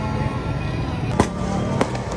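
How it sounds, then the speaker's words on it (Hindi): Two sharp firework bangs crack over a constant hiss of distant crackling and rumbling, during Independence Day celebrations. "यार, ये आतिशबाजी हो रही"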